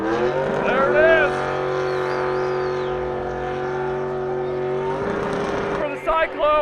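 Jeep engine revving hard at a low-buck car party while dragging its rear axle, a loud sustained drone with steady harmonic tone that eases near the end, crowd voices mixed in underneath.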